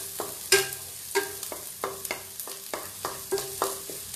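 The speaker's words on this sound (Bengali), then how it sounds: "তেলটা দিয়ে আমি কুচি করে রাখা পেঁয়াজটা দিয়ে দিলাম।" Finely chopped onion fries in oil for chicken dal, a quiet hiss punctuated by a regular run of crisp spatula taps and scrapes, roughly every half second, close to the pan.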